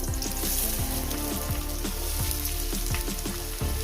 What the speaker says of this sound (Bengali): কয়েক সেকেন্ড ভেজে নিয়েছি দিয়ে দেবো পেঁয়াজ কুচো